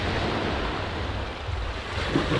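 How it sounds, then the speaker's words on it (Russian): Sea waves rolling onto the shore at Sochi, a steady broadband wash of surf with wind noise on the microphone, continuous and fairly loud, with no voices. "послушать шум волн"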